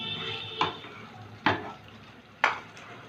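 Chicken coated in spices stirred in a pan for an aloo chicken kosha, with three sharp scraping strokes over a low steady sizzle, close and fairly quiet.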